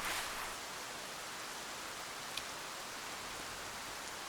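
Steady rain falls during a quest in the video game Escape from Tarkov, a soft, even hiss of drops that continues without a break, with one brief sharp tick partway through.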